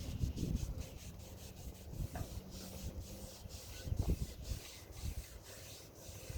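A rag wiping brown ash off a woodburned wooden piece, a steady dry rubbing and scuffing close by, repeated in passes with short pauses between strokes, no talking.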